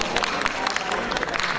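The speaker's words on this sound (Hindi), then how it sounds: "तालियों के साथ अभिनंदन।" An audience at a literary award ceremony gives sustained applause, a dense, even wash of many hands clapping at once that fills the room throughout.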